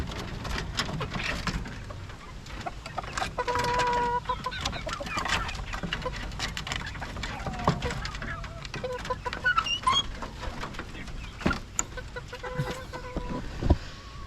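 Roosters and hens in a backyard coop keep up a scattered, fairly quiet clucking over rustling ambience, with occasional louder calls and knocks.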